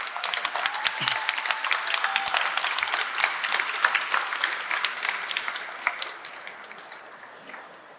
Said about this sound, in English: another round of applause for the Borinqueniers